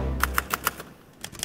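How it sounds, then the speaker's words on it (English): A man types on a manual typewriter on a drizzly day outside the Louisiana State Capitol in Baton Rouge, four crisp, evenly spaced key strikes followed by a few lighter clacks, close and clear. "Typing how many words a minute?"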